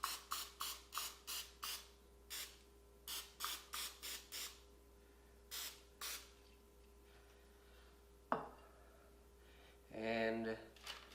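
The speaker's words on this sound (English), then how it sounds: "And now we just have to spray it." A series of short, sharp bursts of cooking oil spray onto chicken in an air fryer basket, in quick rhythmic clusters, close up, followed by a brief clatter and rustling near the end.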